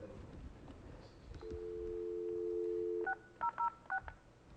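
Telephone keypad touch-tones dialing a four-digit extension on an Asterisk phone system: a long steady tone, then four short, crisp DTMF beeps in quick succession, moderately quiet and with no talking.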